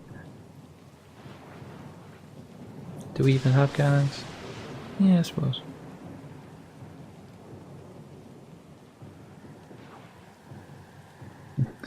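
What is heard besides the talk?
thunderstorm and rain in video game Pillars of Eternity II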